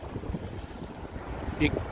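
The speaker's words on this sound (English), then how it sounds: "Now all of a sudden it got windy here." Steady wind roars and buffets the microphone on a snowy street in downtown Chicago after a snowstorm, with a continuous rumbling gust and a brief sharper sound near the end.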